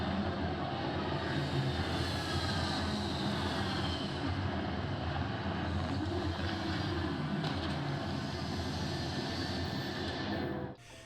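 Spaceship engines rumbling and roaring during takeoff and landing in the Starfield video game, a continuous heavy broadband roar with a slowly shifting whine, played through a BenQ speaker, steady and loud until it cuts off near the end.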